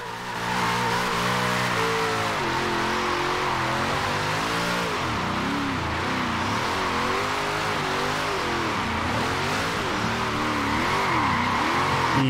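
A car drifts in the racing game Forza Horizon 4, its engine revving up and down in wavering sweeps while tires squeal continuously through slides, loud and unbroken throughout.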